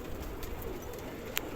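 Domestic pigeons in an Imbaba loft give faint, soft cooing over a low background hiss. A brief sharp click comes near the end, and no one speaks.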